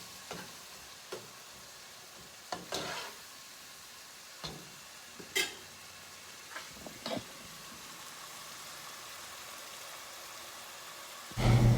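Spicy meat pie filling cooks down in a pan with a faint, quiet bubbling sizzle, broken by scattered spatula scrapes and taps, then a loud thump at the end.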